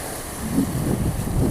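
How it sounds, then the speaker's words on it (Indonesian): Strong north wind buffets the shoreline at Teluk Bobong, Taliabu, near an old pier, giving a rough, rushing roar of wind and surf, loud and close, with no talking. "Sudah ada suasana pantai Teluk Bobong di kala angin utara berhembus."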